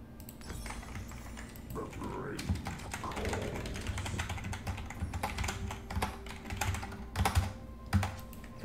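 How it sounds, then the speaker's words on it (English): Computer keyboard typing during a League of Legends ranked game session, a run of quick clicky keystrokes close to the mic mixed with game sounds and a speaking voice. "If I can type on this keyboard."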